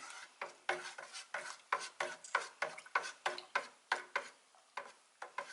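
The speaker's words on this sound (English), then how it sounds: "I gotta stir it without touching the bottom so I don't stir up the sediment" A spoon stirring liquid in a vessel while staying clear of the sediment at the bottom, making quick repeated scraping swishes in a steady rhythm of about three strokes per second, close and fairly quiet.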